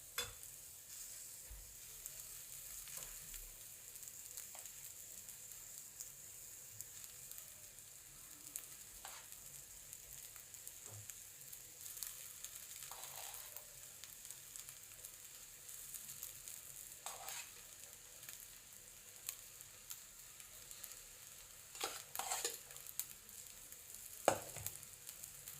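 Precooked rice is stirred into capsicum in a pan for lemon rice, with a soft, steady sizzle of frying and occasional scraping of the spoon, close and fairly quiet.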